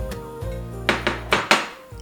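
Lentils and basmati rice stirred in a pot, giving a few sharp scraping clinks of a utensil against the pot over a low steady hum, four distinct strokes close together, with no voices.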